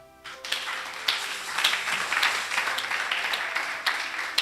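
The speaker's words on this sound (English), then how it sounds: "Did you clap your hand?" A church congregation claps during a sermon, a steady wash of many scattered hand claps at moderate distance that carries on for several seconds with no voices over it.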